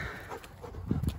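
A hunting dog pants softly at close range in a short burst, with quick breathy huffs growing a little stronger toward the end.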